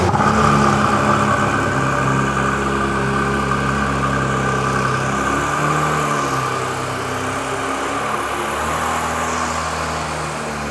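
A Porsche 911 GT3 Touring engine runs steadily for about eleven seconds, a loud, close, continuous drone with slight shifts in pitch and no talking over it.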